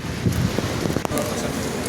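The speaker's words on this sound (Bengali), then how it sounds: "দেখুন, অনেক বাতাস হচ্ছে বর্তমানে" Strong wind gusts buffet a microphone during a walk through rain on a wet night, a broad rushing roar with rustling and a brief sharp knock midway.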